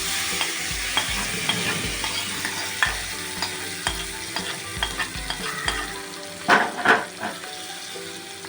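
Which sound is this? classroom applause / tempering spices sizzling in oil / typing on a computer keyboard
tempering spices sizzling in oil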